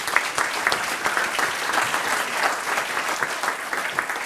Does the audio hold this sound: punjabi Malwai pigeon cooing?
no